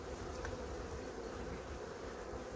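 Honeybees hum in an open hive, a dense continuous buzz close by and fairly quiet, with no voices over it.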